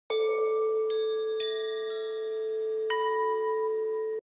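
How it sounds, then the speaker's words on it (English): Tibetan bells from a sampled orchestral percussion library ring out in a series of clear, sustained metallic tones, each new strike layering over the lingering shimmer of the previous ones. "Here's some Tibetan bells."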